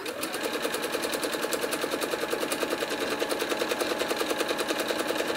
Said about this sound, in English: I'm starting by stitching across the top.